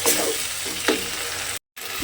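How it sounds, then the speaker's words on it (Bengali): Whisked sour curd is stirred and sautéed into a spice masala in a pan, giving a loud close sizzle with a couple of spoon scrapes, briefly cut to silence near the end. "সেই ফেটানো টক দইটা আমি এর মধ্যে দিয়ে দেব। দিয়ে আবারও কিন্তু খুব ভালোভাবে মিশিয়ে একটু কষিয়ে নিতে হবে।"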